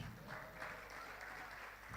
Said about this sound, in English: Keep on clapping, that's our norm. Keep on clapping, please.